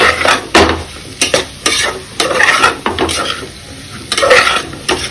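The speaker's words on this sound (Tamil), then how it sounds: "அதை ஆட் பண்ணி நல்லா மிக்ஸ் பண்ணி கொடுத்துடலாம்." Bottle gourd pieces stirred into a dal curry base in a frying pan, with repeated scraping strokes of a spatula over a steady, close sizzle, in bursts of uneven rhythm.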